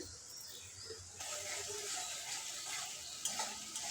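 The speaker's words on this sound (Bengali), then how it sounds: "কষতে থাকবো যতক্ষণ না এর থেকে তেল ছেড়ে দিচ্ছে" Spice paste with cumin powder and Kashmiri red chilli powder is stirred and fried in oil in a pan, giving a steady close sizzle with scraping stirs throughout.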